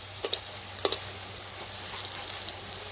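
Egg fritters (dimer bora) frying in oil in a pan, a continuous sizzle with a few sharp scrapes and clicks as they are turned over, close by and without speech.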